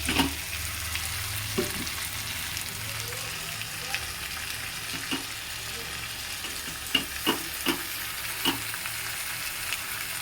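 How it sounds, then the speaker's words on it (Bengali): A pan of fish and vegetable curry with pabda fish and kalo jeere gives a soft, continuous bubbling hiss, with scattered light clicks and pops from nearby and no voices. "দেখুন বন্ধুরা জলটা ফুটতে শুরু করেছে"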